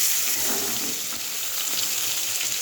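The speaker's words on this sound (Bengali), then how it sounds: "মাছটা ভাজা হয়ে গেছে, এবারে" Fish sizzles in hot oil in a pan with a steady, close crackling hiss that continues throughout, with only a faint soft bump in the middle.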